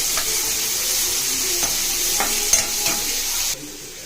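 Onions sauté over a medium flame and are stirred in a pan for onion and tomato paratha, a steady close sizzle broken by several scraping stir strokes, then briefly quieter at the end.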